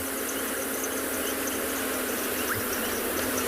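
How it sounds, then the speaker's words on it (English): Frogs call on a summer evening in South Africa, a dense, steady, shrill chorus that fills the air without a break, many voices blending into one continuous din. "a cacophony of noise from the frogs themselves"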